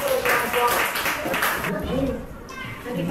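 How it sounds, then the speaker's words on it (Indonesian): Classroom students clap for a presenting group during a science lesson, a brief spell of scattered clapping mixed with children's chatter, followed by a teacher talking. "Oke, kita kasih tepuk tangan dulu ke kelompok."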